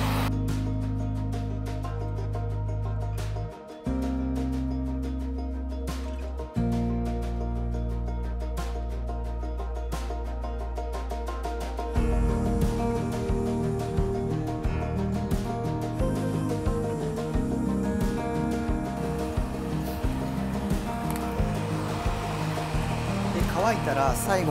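A hair dryer blows on hair just treated with hair oil, a loud, continuous close-up whir that shifts to a different pitch and level about halfway through.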